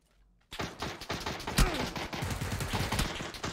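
UMP submachine gun fired in a video game, opening abruptly after a short quiet moment into a loud, rapid, continuous stream of close shots with a heavy thump partway through.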